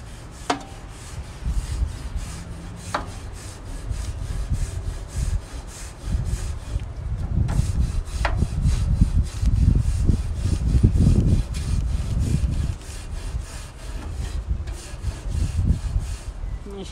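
Metal scraper rasping across a grill grate, a steady run of rough scrapes with short pauses, close and fairly loud, no talk.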